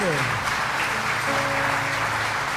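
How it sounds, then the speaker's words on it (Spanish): A church congregation applauds during an Easter resurrection sermon, steady loud clapping that holds throughout, with a voice and sustained musical tones sounding underneath. "Aplauda al Rey, apláudalo fuerte."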